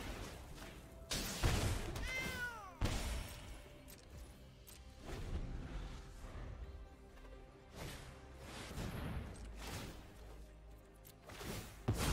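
Digital cat meows from the MTG Arena card game, repeated several times over layered game effects and impact sounds, fairly loud with a few strong hits near the start and end.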